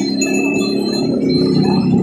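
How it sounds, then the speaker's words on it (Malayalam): An Om bell at a shop near the Guruvayur temple area of Thrissur rings with a loud, sustained, humming metallic drone and steady ringing overtones, held continuously and close without any talk. "ഇതാണ് ഓം ബെൽ. ഇതെന്ന് വെച്ചാൽ ഒരു ഓം സൗണ്ടാണ് ഇത് പ്രൊഡ്യൂസ് ചെയ്യുന്നത്."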